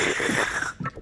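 A single breathy, hissing sneeze bursts out close by, followed by a brief softer vocal sound.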